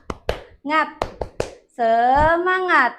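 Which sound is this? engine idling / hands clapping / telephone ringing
hands clapping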